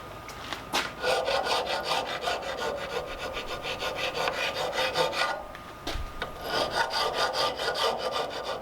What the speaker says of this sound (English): Just quickly deburr that, I guess.